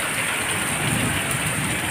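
Heavy rain pours down in a gusty nor'wester storm, a dense, steady hiss of falling water and wind that stays loud and unbroken throughout, with no voices.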